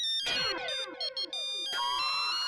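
A mobile phone rings indoors with a bright, repeating electronic tune of stacked, sliding tones that pauses briefly and then starts up again, loud and alone with no talking.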